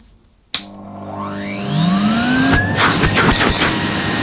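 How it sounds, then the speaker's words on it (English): A 2012 Numatic Henry vacuum cleaner switches on with a sharp click, its motor whining up in pitch as it spins up, then settles into a loud, steady roar with no talking. "Switch him on and feel the force of Henry's suction."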